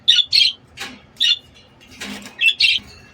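Lovebirds give bright, high chirps in short bursts, about seven calls over three seconds with a brief fluttery rustle in the middle, close by and clear.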